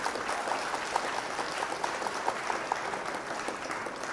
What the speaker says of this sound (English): So let's give a round of applause for that as well.